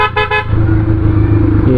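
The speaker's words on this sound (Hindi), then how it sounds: "ये कैरी वाले को मैंने ओवरटेक करना था, तभी मैंने हॉर्न दिया" A car horn sounds three short, loud toots in quick succession while overtaking a Suzuki Carry in a roadside bazaar on a hill road to Dhirkot, Azad Kashmir, followed by steady engine and road noise.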